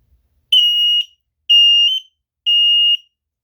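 AEGISLINK S RF200 smoke detector alarm blaring three loud, piercing electronic beeps of about half a second each, evenly spaced and close by, with silence between them.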